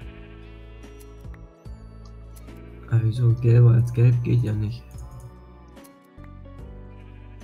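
Sheep in Minecraft bleat in a loud run of wavering calls through the middle of the clip. Someone talks in German before and after over soft background music.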